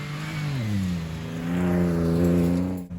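A 2024 Ford Ranger Raptor pickup runs at high speed over desert terrain, its engine droning loud and steady with a rising pitch and a brief dip near the end.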